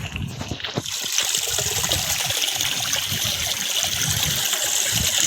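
Water pours steadily into a container with a continuous splashing, trickling rush, fairly close and constant throughout.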